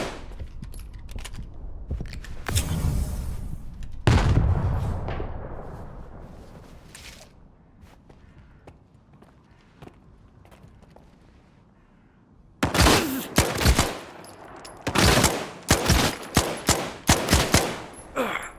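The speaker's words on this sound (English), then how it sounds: "I'm landing headshot after headshot on that guy." Gunfire aimed at an exosuit-armored enemy in S.T.A.L.K.E.R. 2: Heart of Chornobyl, with scattered loud shots early, a lull with a fading tail, then a rapid string of sharp, close shots near the end.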